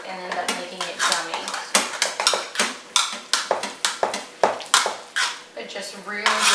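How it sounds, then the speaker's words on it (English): Boursin mashed potatoes are mixed in a pot for a Thanksgiving side, with a spoon or masher knocking and scraping against the pot in a fast, loud, rhythmic series of clatters. "we're just gonna mix this all around"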